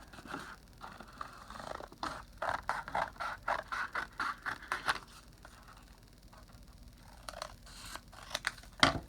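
Scissors cut out a traced paper shape for a handmade card, giving quick rhythmic snips in bursts, close and clear, with a pause midway before a few more cuts.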